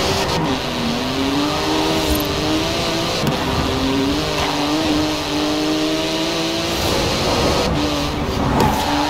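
A Porsche 911 GT2 RS in Forza Horizon 4 drives with a loud, continuous engine drone that rises and dips in pitch through gear changes, steady and close throughout.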